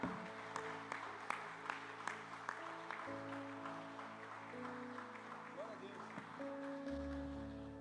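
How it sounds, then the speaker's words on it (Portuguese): A church congregation at a Sunday evening service claps together, rhythmic applause near and moderately loud, with people talking over it throughout. "Vamos aplaudir o Senhor Jesus?"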